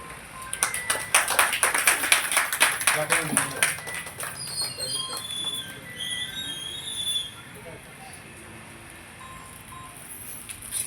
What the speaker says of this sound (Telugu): ఒకసారి క్లాప్స్ కొట్టారు